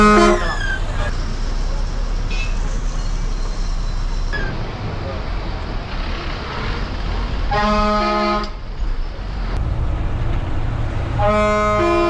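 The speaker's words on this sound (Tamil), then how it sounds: "இதோட ஹாரன் வந்து டபுள் ஹாரனு சூப்பராக இருந்ததுங்க" A bus horn blares in repeated double honks, loud and close, over steady road and engine rumble on the Kanchipuram to Poonamallee route, with a final pair of honks near the end.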